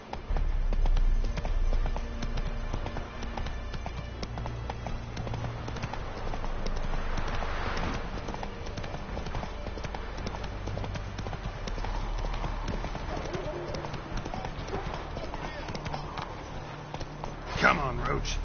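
Roach, a horse in The Witcher 3 game, gallops with a steady clip-clop of hooves that runs under game music and occasional voices talking.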